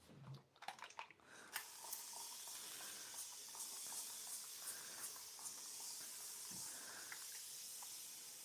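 Several short bursts of a spray bottle misting water onto hair, close and crisp, each with a quick airy hiss against a quiet room, spaced irregularly over the clip.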